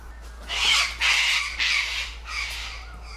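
Birds give four loud, harsh squawking calls in a row near a small DJI Mini 3 drone flying by tall neighbourhood trees, with a steady low hum underneath.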